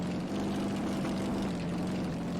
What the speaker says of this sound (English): vicious car on the loose.